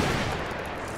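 Dense burst of gunfire in Battlefield 1 as enemies are shot at, a loud, close, continuous crackle lasting about a second with no voices over it.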